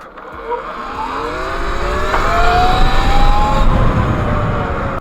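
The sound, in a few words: Total E-Ride Pro electric bike accelerating 0 to 60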